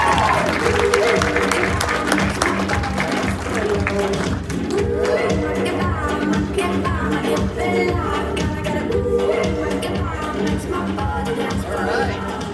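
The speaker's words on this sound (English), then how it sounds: "Give them all a big round of applause" Conference audience applause at a real estate company's international gathering in Scottsdale, Arizona, steady and crowded throughout, mixed with loud music playing and some voices.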